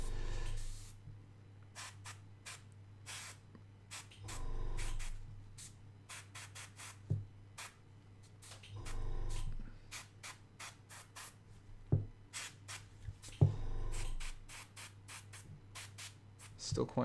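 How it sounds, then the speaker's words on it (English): Short bursts of hissing spray from an airbrush laying orange paint onto a Space Marine miniature, repeated in quick irregular pulses, with a few longer blasts and occasional talk between them. "I think that'll be it for the airbrushing of the orange."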